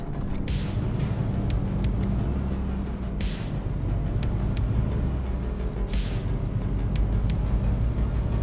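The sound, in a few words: quiet truck engine running while driving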